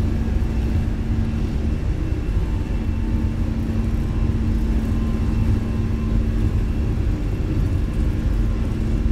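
Airliner engines spooling at takeoff thrust in a Fenix A320 flight simulator, a loud, steady, continuous roar with a low hum and no talking.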